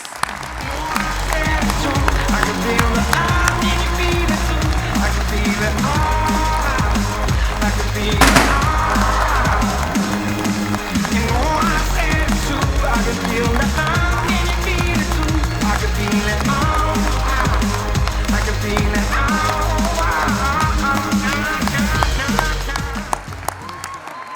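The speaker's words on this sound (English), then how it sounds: "Everyone join me in a worthy round of applause" Graduates at a Massey University graduation ceremony in Manawatū, May 2023, receive a sustained round of applause from a large audience. The dense clapping stays loud and steady throughout, mixed with music and some voices.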